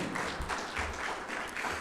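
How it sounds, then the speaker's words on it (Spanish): A church congregation claps together during a Spanish-language service, a steady burst of applause lasting a couple of seconds with no one speaking over it. "¿Cuántos podemos dar una ofrenda de palmas a Dios por nuestro Señor Jesucristo?"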